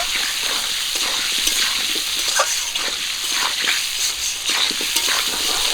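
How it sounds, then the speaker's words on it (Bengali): Washed potatoes seasoned with salt and turmeric fry in mustard oil in a kadai, giving a steady, close, dense sizzle with occasional stirring scrapes and no talking. "আলুগুলোকে লাল করে ভেজে নেব"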